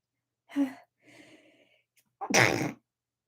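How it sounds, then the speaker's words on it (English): A single sharp, close sneeze bursts out after a couple of soft breathy sounds and a brief hum. "I don't know why I'm sneezing"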